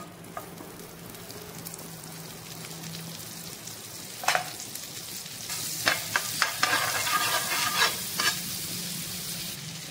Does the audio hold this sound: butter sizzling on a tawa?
yes